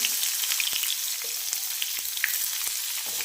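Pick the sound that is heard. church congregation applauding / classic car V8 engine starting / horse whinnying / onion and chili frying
onion and chili frying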